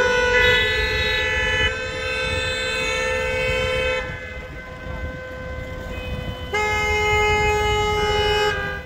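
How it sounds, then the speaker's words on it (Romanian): Car horns held in long, loud blasts by irritated drivers stuck in a blocked fuel station queue, one steady horn overlapping others before a second burst rises near the end, no talking. "șoferii care circulau spre alte localități au început să claxoneze iritați."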